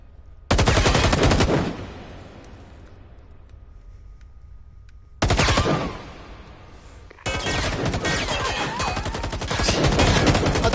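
Rapid automatic gunfire fills a shootout in the VR shooter Firewall Zero Hour on PS4 Pro. Loud sustained bursts start and stop, separated by a quieter lull, then a long final barrage.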